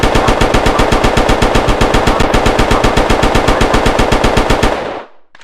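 Rapid automatic gunfire in a roleplay video game: a long, loud, evenly spaced burst of shots that ends abruptly, with a short echoing tail.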